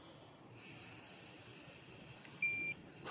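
A breathalyzer emits a steady high-pitched electronic tone continuously over a faint hiss during a police sobriety test, with a brief higher blip near the end, close and clear.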